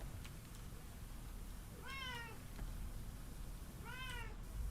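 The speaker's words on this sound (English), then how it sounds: "He's a very loud kitty." A pet cat named George meows loudly twice, each call a drawn-out rising-and-falling yowl about two seconds apart, over a steady low background hum inside a Power Wash Simulator game.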